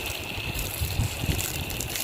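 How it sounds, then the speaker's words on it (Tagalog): Water gushing steadily from a hose while plants and trees are watered in a backyard, a continuous close splashing wash with no break. "Kailangan maraming tubig, dilig"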